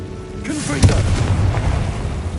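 A Confringo blast spell in Hogwarts Legacy goes off as a single heavy boom with a crackling burst, then rumbles on loudly under game ambience. A voice is faintly present.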